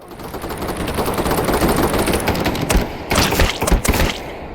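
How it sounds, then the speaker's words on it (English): A firefight in the Gang V VR game brings loud, dense machine-gun fire in continuous rattling bursts, with a few heavier thumps near the end. "Watch this firefight and you'll understand."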